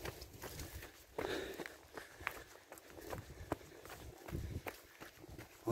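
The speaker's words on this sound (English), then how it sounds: "and my footsteps and breathing or wheezing" Footsteps of a runner on an outdoor trail in quiet nature, a steady rhythmic pattern of footfalls heard close by and moderately loud over faint ambient background.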